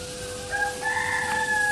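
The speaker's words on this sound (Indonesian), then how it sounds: "ada suara ayam segala soalnya ini pagi-pagi" A rooster crows in the early morning, one drawn-out cock-a-doodle-doo rising over a steady background hum, moderately close and with no one talking over it.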